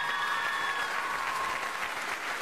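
Audience applause fills a game-show studio during a competition between two generational teams, steady dense clapping throughout the short moment with no talk.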